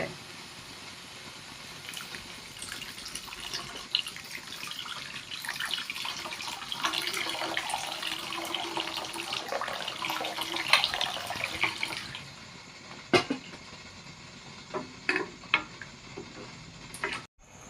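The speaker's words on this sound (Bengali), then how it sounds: "এবারে পানি দিয়ে দেবো।" Water pours into a pot of vegetable soup with fried vegetables and spices, a continuous splashing gush that runs for about twelve seconds and then stops, followed by a few scattered clinks and taps.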